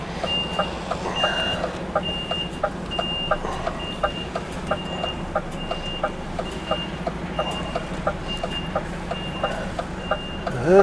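A lorry reverses with a steady, regularly repeating beep alarm over the low rumble of its engine, with no talk.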